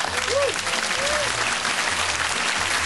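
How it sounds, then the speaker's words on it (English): A TV studio audience on the BBC game show Don't Scare the Hare gives polite, half-hearted pity applause, a continuous wash of clapping over the whole stretch. "You're going to get some applause, but they're more kind of pity applause"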